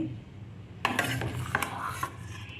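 Dosa batter is stirred in a pan on the stove, a spoon scraping and clinking against the metal in a steady, close run of rubbing strokes with no speech.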